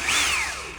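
A power drill with a bit spins up in a car interior during a Chevrolet Cavalier build, giving one short, loud, rising whine that sweeps up and then slowly drops, close to the mic with no talk.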